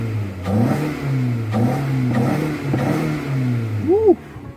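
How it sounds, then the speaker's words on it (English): A 2.4L Kia Forte engine fitted with an Injen air intake revs in several short, close, loud bursts over a steady idle, with one final sharp blip at the end. "Let's give it a nice little rev."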